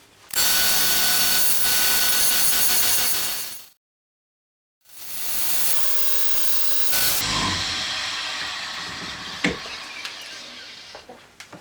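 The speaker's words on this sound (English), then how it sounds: "What I'm going to do now is just run the big end mill along both the faces." Loud steady hissing of an end mill cutting the faces of an aluminium motorcycle top yoke, cut by a brief silence, then resuming with a rougher grinding whine and a few sharp clicks.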